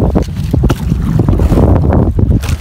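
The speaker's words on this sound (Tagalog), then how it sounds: "Mahangin." Strong gusty wind buffets the microphone on a small boat out at sea on choppy water, a loud continuous low rumble with irregular blasts and no talk.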